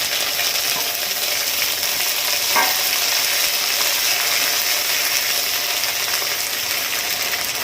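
Spice paste with ginger and slit green chillies sizzling hard in hot oil for a tangra fish curry with elephant foot yam, a loud continuous frying hiss with a faint stir or scrape, close up and unbroken.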